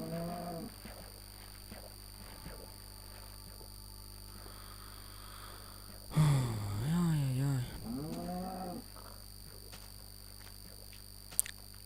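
Cow mooing in Minecraft, a drawn-out harmonic low moo in the middle, with shorter animal calls before and after and footsteps over quiet background.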